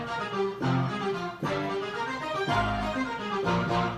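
A layered synthesizer patch with a string layer plays sustained harmonic chords, changing roughly every second in a steady, full, loud texture with no talking.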